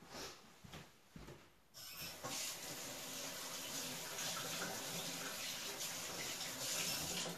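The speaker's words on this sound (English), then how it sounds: "Let me rinse my hands." Tap water runs steadily into a kitchen sink as hands are rinsed, a continuous broadband splashing that starts after a couple of seconds of quieter room noise and holds fairly close and even.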